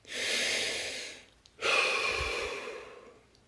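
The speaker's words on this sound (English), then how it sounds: "Deep breath." A deep breath drawn in and let out, a long airy inhale followed after a brief pause by a fuller exhale, close and quiet with no talking.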